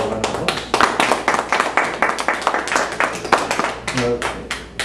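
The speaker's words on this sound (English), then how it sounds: "Everybody give Danielle a round of applause." Audience applauding after a magic trick at a competition, a dense run of close claps for several seconds with a voice partly over it.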